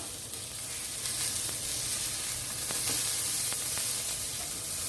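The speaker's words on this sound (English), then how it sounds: "as we do a fast boil with the hash brown" Hash browns for corned beef hash fry in a pan with a dense, steady sizzle that stays loud and even throughout, with no talking.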